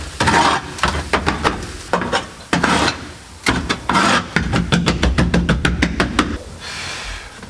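Sound deadening material cracking and popping as it is removed from a GC8 rally car, a dense run of sharp, close crackles and snaps coming in bursts with brief pauses.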